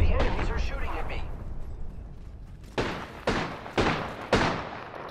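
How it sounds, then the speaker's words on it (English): Gunfire in the Apex Legends video game: a sustained burst of shots followed by four sharp, loud single cracks at steady intervals, heavy and close, with the game's ambient rumble underneath. "the enemies are shooting at me."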